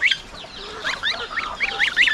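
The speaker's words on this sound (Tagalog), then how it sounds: "Sisiyo ng gansa, 4 sana sila" Young goose goslings, a small brood weathering cold weather, give rapid high peeping calls in short repeated bursts close by, with no voices.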